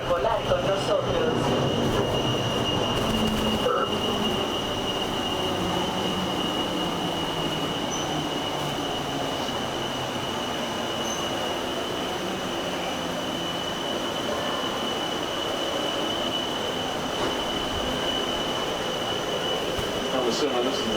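A Disney Skyliner gondola cabin slows along its cable for disembarking, giving a steady rumbling, whirring ride noise with a faint high whine and a few clunks. A voice speaks briefly over it.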